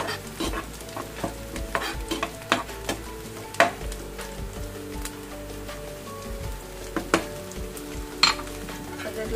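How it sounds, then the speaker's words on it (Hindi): Onions frying until golden in a pan, a continuous soft sizzle with scattered clinks and scrapes of stirring, close and moderately quiet with no voices. "हमारी प्याज यहाँ थोड़ी बहुत गोल्डन हो चुकी है।"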